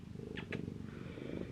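A house cat purrs close by in a low, steady, rhythmic rumble, soft and continuous, with a couple of brief faint higher sounds over it.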